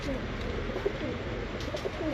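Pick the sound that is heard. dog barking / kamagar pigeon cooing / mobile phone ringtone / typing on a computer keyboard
kamagar pigeon cooing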